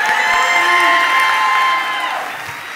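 A crowd at an evening awards ceremony claps, cheers and whoops loudly at once, the sustained roar easing off toward the end.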